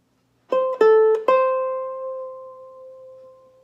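A few plucked ukulele notes, then one note rings out and slowly fades with a gentle wavering vibrato, clear and close.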